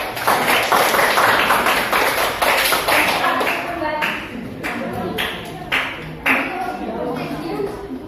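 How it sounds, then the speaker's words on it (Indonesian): Classroom applause for student groups after their presentations, a dense burst of many hands clapping that thins into scattered claps and taps over several seconds. "Tepuk tangan untuk semuanya"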